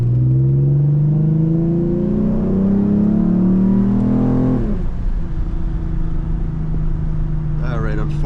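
Lexus IS350 with full bolt-ons and a tune, engine revving hard and climbing in pitch during a power slide, then dropping off to a steady drone. Tyres scrub underneath, and a voice talks over it.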